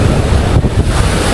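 Big ocean waves surging at the seaside, a loud continuous roar of surf with heavy wind buffeting the microphone throughout.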